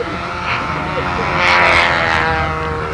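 A model airplane's propeller engine drones and whines as it comes in to land on a windy day. The pitch rises and swells in the middle, and people talk over it.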